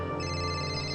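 A telephone rings in a Marathi TV serial scene, a brief steady electronic ringtone heard alone at moderate level.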